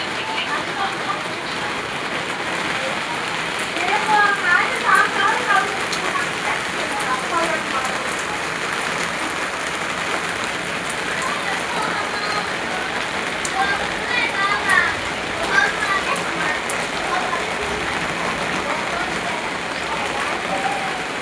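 Steady light rainfall patters outdoors in an even, close hiss, swelling slightly in a couple of brief busier stretches of drops, with no voices present.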